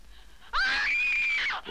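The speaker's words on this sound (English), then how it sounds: "Were these the screams you heard?" A woman's shrill, sustained scream played back from a recording, rising sharply and holding for about a second before cutting off, loud against a quiet background.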